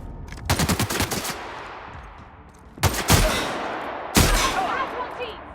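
Bursts of automatic gunfire from The Outer Worlds video game: three separate volleys, the first a rapid stuttering burst and two shorter sharp blasts later, loud and close with a lingering rumble between.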